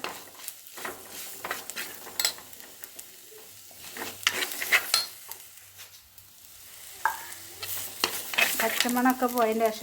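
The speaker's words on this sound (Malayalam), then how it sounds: "എന്നിട്ട് നല്ലോണം എണ്ണയിൽ കിടന്ന് നല്ലോണം വാടട്ടെ." Vegetables sizzle in hot oil in a pan, with a continuous crackling fry and repeated clinks and scrapes from stirring with a utensil.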